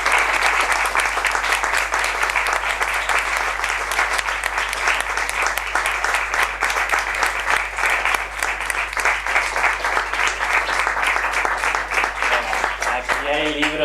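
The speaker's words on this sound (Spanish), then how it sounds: "rómpanse las manos, aplaudir ahí" An audience at a book presentation claps heartily, a loud, sustained burst of applause that stays even throughout, with a voice briefly breaking in near the end.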